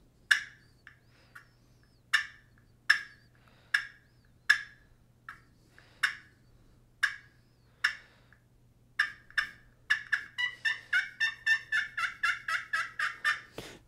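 A hand-held turkey call worked to imitate a tom turkey's gobble: a series of sharp, evenly spaced yelps that speed into a fast rolling gobble near the end, close and clear with no talking.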